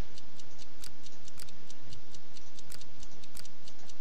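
Snipping clicks of wires being cut in a bomb-defusal video game, several sharp, evenly spaced snips standing out over a steady loud game background hum.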